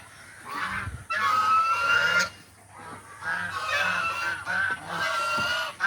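Geese on an integrated farm honking loudly in repeated harsh blasts, several overlapping calls close by with brief pauses between.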